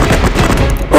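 Explosion blast in a base-clearing shooter video game, a dense rumbling burst of boom and gunfire-like noise filling the whole moment, loud and close, with a brief tonal game sound at the end.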